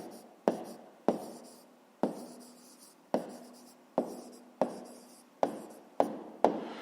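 A pen taps and scratches across paper, close and quiet, in about ten short strokes with a sharp attack and quick fade, spaced roughly half a second apart, with no voices.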